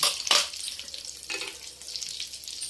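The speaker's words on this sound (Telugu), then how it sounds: "వేగిన తర్వాత కొబ్బరి ముక్కలు వేసుకున్నాం" Coconut pieces fry in a pan for a raw mango and coconut chutney, with a loud continuous sizzle and crackle and a stirring scrape near the start. No one speaks.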